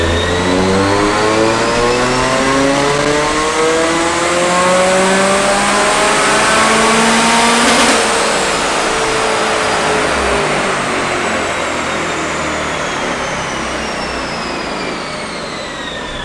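A supercharged Mazda Miata engine revs on a dyno, climbing in a long, loud continuous pull to the rev limiter near the middle, then holding a high, droning whine as it eases off.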